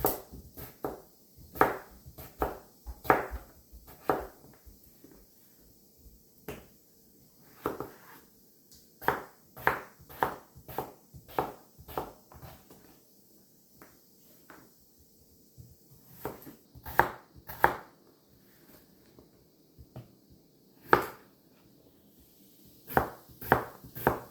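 Kitchen knife chopping home-grown garden potatoes into bite-sized pieces on a cutting board, a long series of sharp close taps in irregular bursts with short pauses between runs.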